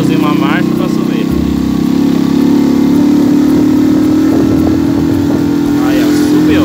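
Shineray Jet 50cc motorcycle engine pulling uphill in a lower gear after a downshift, a steady loud mid-pitched drone that holds throughout, with the rider talking over it.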